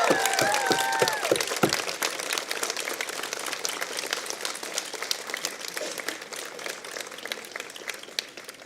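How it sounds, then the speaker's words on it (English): Warm applause from a convocation audience in Peterborough, a dense steady patter of many hands filling the hall, with a brief voice heard at the start before the clapping carries on alone. "I'd ask that you give a warm round of applause for your supporters in our audience"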